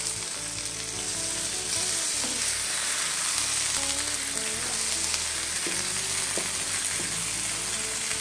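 A spice paste being stirred and fried in a pan for a Bengali egg-chicken and green-vegetable dish gives a loud, continuous close-up sizzle with occasional stirring scrapes, and no voices.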